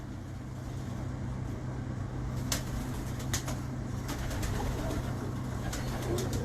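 Pigeons cooing softly amid steady low background hum, with a few brief sharp clicks or flutters partway through; no one speaks.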